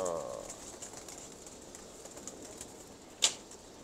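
Lal Toofan pigeons coo softly in the background, faint and distant, with a brief sharp burst near the end that could be a flap of wings.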